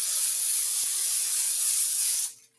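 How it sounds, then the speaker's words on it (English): A continuous hissing aerosol cooking spray coats a 9x13 baking pan for about two seconds, close and loud, then cuts off abruptly into quiet. "I'm going to spray my 9x13 pan"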